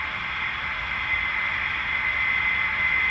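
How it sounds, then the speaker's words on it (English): A ZIMO DCC sound chip in a model AD60 Garratt locomotive produces a steady generator sound: a constant, even hiss with a faint high whine that holds throughout at moderate level, with no voices. "Hear the generator come on."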